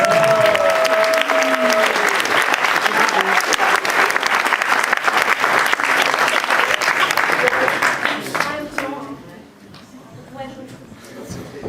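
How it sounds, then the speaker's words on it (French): Loud, dense audience applause at a comedy or stage show in a bar venue fills most of the clip, with a few voices calling out over it, then thinning out near the end. "Vous pouvez l'applaudir quand même, hein?"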